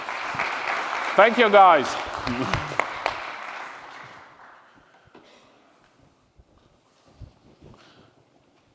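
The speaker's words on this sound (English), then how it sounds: "Okay, applause" An audience claps at the closing session of an e-skills conference in Riga, steady and fairly loud applause that fades over about four seconds while someone speaks briefly over it, leaving near silence.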